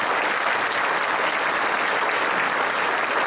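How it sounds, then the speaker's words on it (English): A school audience at a yearbook dedication for Miss Virginia Harris gives a steady, dense round of applause, moderately distant and unbroken throughout with no voices over it. "we want you to give her a round of applause"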